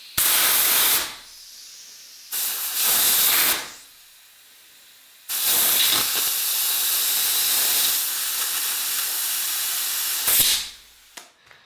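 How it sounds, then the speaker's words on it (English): An air compressor blasts air at a stuck brake caliper on a rusty Honda CB250 motorcycle, with loud close hissing bursts, a short one, then a longer one, then a long sustained blast before cutting off, with no talking. "I'm going to stick the air compressor on it one more time"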